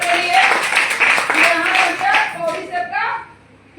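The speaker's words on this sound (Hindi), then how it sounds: "एक जोड़ा तालियां दोनों के लिए" An audience claps in a sustained round of applause at a gathering, steady and close for several seconds, with some talking mixed in, before fading out.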